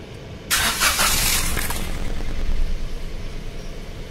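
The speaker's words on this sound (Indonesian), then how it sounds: "Sekarang nyalakan mesin." A car engine is started with the ignition key during routine maintenance: a loud cranking burst at half a second catches and settles into a steady idle that continues to the end.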